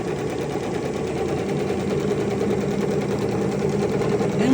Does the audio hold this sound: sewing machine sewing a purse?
yes